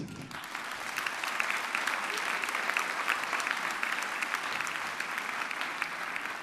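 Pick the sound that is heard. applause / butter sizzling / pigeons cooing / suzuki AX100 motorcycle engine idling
applause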